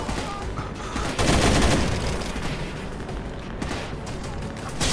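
An AK rifle in Rainbow Six: Vegas 2 fires sustained, rapid automatic bursts, loud and close, with booming reports blending into a continuous barrage.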